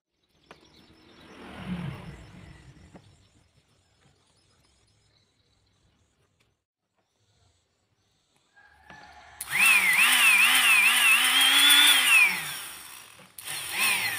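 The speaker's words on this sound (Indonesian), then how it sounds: "jadi sekarang tinggal kita pasangkan mata bor lalu kita uji coba" A mini electric drill fitted with a bit and powered from a power supply whirs up loud and steady after a quiet stretch, holding a high wavering whine for several seconds before cutting off, with a brief restart at the end.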